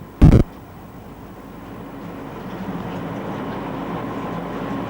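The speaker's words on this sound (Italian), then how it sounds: "Il treno transita ora per la fermata di Pecchkau." An electric train on the Pontebbana line between Udine, Tarvisio and Villach runs through a stop, heard from inside the cab as a steady rumbling rolling noise after a brief sharp loud burst near the start.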